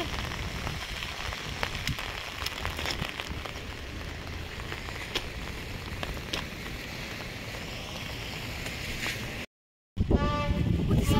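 Steady heavy rain pours down outdoors in a broadband hiss with scattered drop impacts, continuous and fairly close, then a brief dropout followed by a gust-like resumption; no talking is heard.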